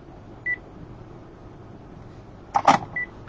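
A mobile phone beeping while it is being switched off: a short electronic tone, then a louder cluster of beeps and a final brief tone, close by, over a quiet room hum with no talking.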